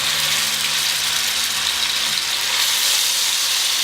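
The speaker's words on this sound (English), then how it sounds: "I'm gonna start throwing some chicken pieces in there. You wanna hear that sizzle" Chicken pieces sizzle steadily in hot fat in a pan, a dense, continuous frying hiss with a low hum underneath, loud and close throughout with no voices.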